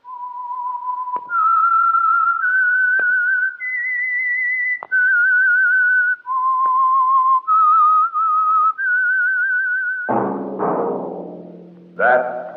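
A lone, clear whistled tune of sustained notes stepping up and down, loud and close, the theme of the 1948 radio drama The Whistler, followed by a swell of orchestral music.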